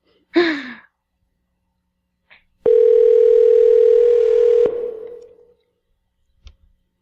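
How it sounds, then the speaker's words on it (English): A telephone dial tone hums for about two seconds as a call is placed, a loud steady electronic tone that cuts off sharply, preceded by a breathy sigh. "We're calling him on the phone, Nicole."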